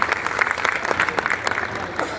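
Hand-clapping applause from a seated audience welcoming a guest at a Rajasthani community poetry gathering in Navi Mumbai, a dense, steady patter of many claps lasting a couple of seconds with faint voices beneath.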